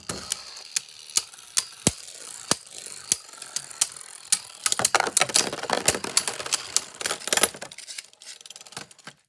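Beyblade Burst tops Chain Kerbeus K8 and Perfect Phoenix are launched with a ripcord launcher, giving a loud ratcheting zip, followed by dense metallic clacks, rattles and collisions as the tops spin and battle in a stadium, fading toward the end.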